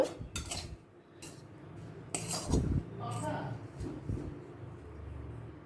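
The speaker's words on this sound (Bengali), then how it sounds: "এরপর অন্য পাত্রে তুলে নেব" Fried jute leaves are moved into another pot with utensils, giving clattering clinks and scrapes of metal cookware in irregular bursts, close and fairly loud, with some talk in between.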